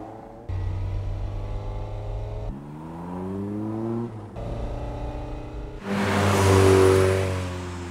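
Toyota AE86 engine from the Initial D anime revving hard, with rising and falling pitch sweeps across several gear pulls that build into a loud, rough roar near the end. It is heard alone, without voices.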